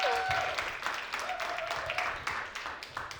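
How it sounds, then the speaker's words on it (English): An audience applauds after an introduction at a women's event, a faint, fairly distant patter of clapping with some talk mixed in. "Please give a round of applause for the Bayo de"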